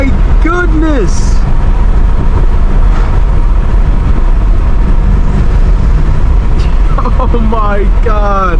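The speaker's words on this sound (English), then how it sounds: "This car sounds amazing." A catless BMW M5 Competition F90 accelerating hard on backroads, a loud, continuous broadband exhaust roar that holds for the whole stretch while excited voices shout over it.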